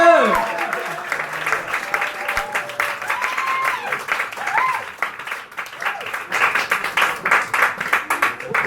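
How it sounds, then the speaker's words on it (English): A cabaret audience claps and cheers in a sustained burst of applause, steady and dense throughout, with a voice speaking over it early on. "So you're cheering now."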